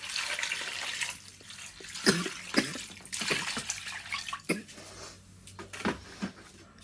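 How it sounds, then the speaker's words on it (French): Water poured into an oxtail stew pot: a soft, uneven splashing stream with a few sharper splashes, close but quiet. Someone speaks French over it. "Je vais rajouter de l'eau."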